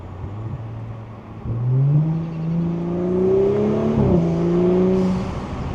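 A turbocharged Audi B9 S4 engine with a carbon fiber intake revs up and accelerates hard, its pitch climbing steadily with a whirring turbo note, close and loud, briefly easing then pulling again.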